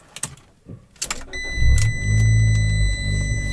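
A few clicks and a chirp, then the small turbo engine of a 2013 Fiat 500 Abarth starts and settles into a loud, deep idle rumble with a slight rev.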